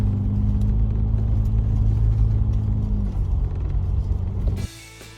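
Vehicle crawling in two-wheel drive over a rocky, bumpy dirt trail with dry creek beds and mud puddles, a steady close engine rumble with jostling mechanical knocks, cutting off abruptly near the end.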